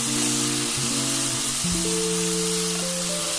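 Sliced bitter gourd and potato strips fry with spices in an oil-filled pan, a steady, close, hissing sizzle that continues throughout while soft background music plays alongside.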